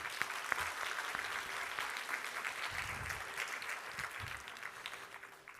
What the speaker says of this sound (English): One more round of applause for Parvathy.